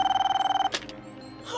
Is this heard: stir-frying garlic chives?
no